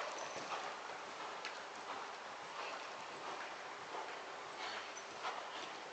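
Faint, rhythmic clip-clop of a horse's hooves at a steady rising trot on a 20-meter circle, soft and somewhat distant over a hissing background.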